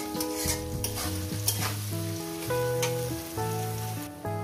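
Onions fry for chicken kosha with a faint sizzle and crackle that sits under a steady backdrop of musical tones.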